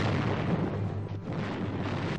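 Artillery shelling rains down on Boulder City during the Korean War, a dense, continuous roar of explosions and blasts that fills the whole moment without pause.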